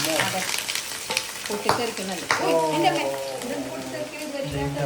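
Ingredients for a simple lunch dish fry and crackle in a pan while being stirred and scraped, with clattering spoon strikes and a voice talking over the steady sizzle.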